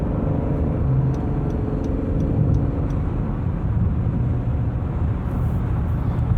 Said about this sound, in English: so there's a little more engine noise in general